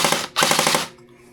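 A Bohan HK416D gel blaster rattles off two quick bursts of full-auto fire, loud and close, with a brief gap between them, followed by a fading mechanical tail.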